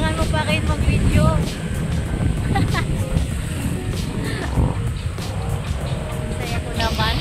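Steady roar of wind buffeting the microphone while riding a motorcycle, a continuous rushing noise with low engine rumble underneath, with a voice talking over it throughout.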